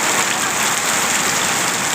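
A downpour drums on the Khok Nong Na Suan Sin garden, a thick, continuous wash of rainfall that holds loud and near without pause or talk.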